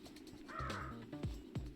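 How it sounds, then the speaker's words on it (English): A crow caw sound effect from the video game Demon Turf, several harsh cawing calls in quick succession, loud and close, with no talking. "It's the sound of a crow cawing."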